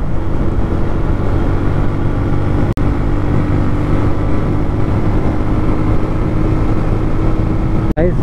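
A TVS Raider BS6 five-gear motorcycle ridden along an open road, its engine droning steadily and close with wind buffeting throughout, broken by two brief dropouts.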